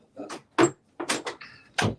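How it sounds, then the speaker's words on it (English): A door is handled and opened indoors in a series of short knocks, clicks and scrapes, closely spaced and fairly close to the microphone, with no talk over them. "Let me grab this door."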